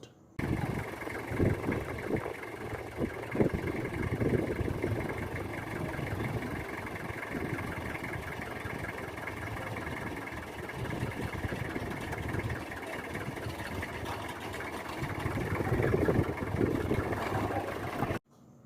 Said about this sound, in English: I will play you the original audio so that you will hear how the truck sound.